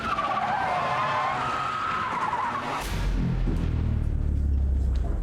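A fast stunt car for a Fast Saga film skids sideways, a long loud tire squeal sliding across the first half before giving way to a heavy, rumbling engine roar close by.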